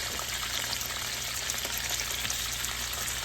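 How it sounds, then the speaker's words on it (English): Salmon with butter fries in oil that is not yet very hot, giving a faint, even crackle that holds steady throughout. "I'm going to go ahead and add the salmon in."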